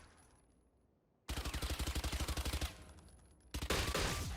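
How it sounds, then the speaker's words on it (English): Fully automatic gunfire from a weapon in the shooter game Valorant: a loud, rapid burst of about fifteen evenly spaced shots, a short pause, then another heavy burst starting up, with no talking. "you can actually shoot fully automatic"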